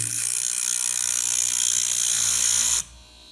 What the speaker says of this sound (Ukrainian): Я собі зараз тут трошки заріжу і можна буде залізти викруткою.